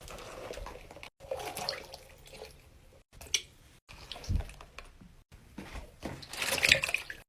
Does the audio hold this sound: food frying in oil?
no